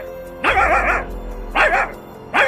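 A dog barks loudly in three separate outbursts, each a harsh yelping bark with a whining edge, close by and spaced about a second apart.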